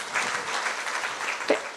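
Church congregation clapping their hands together in praise during a worship message, a steady dense wash of applause that holds for the whole moment and swells briefly near the end.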